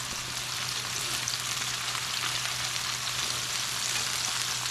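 Scallions fry in a pan with a steady, close, crackling sizzle that hisses evenly throughout, with no voices.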